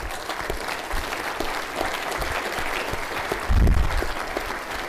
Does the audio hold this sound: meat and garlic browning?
no